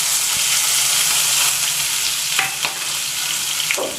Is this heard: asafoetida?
yes